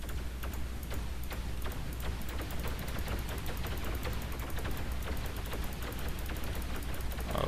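Ship weapons in the space game X3: Terran Conflict fire at a Xenon Q warship, a steady rapid train of sharp ticking shots running the whole time over a constant low engine hum, with no talking.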